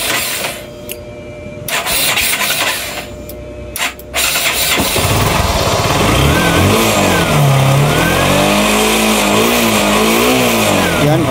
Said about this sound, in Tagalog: pag start engine natin, didiretso yan. Start engine.